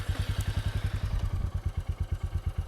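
Royal Enfield Meteor 350 motorcycle idling with the clutch pulled in, a steady, close, low thumping single-cylinder beat with rapid regular pulses and light mechanical clatter.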